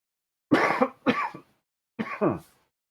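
A person coughs three times, loud and close, as two quick coughs and then a pause before a third, with no talk around them.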